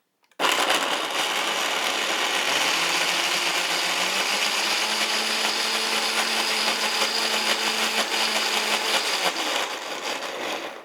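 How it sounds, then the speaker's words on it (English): Conventional blender whirring through a thick raw ranch dressing, switching on abruptly and running as a loud, steady motor whine. The pitch drops and settles a couple of seconds in, then the sound runs alone until it cuts off. "So let's go ahead and blend."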